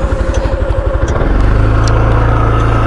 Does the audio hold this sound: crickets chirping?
no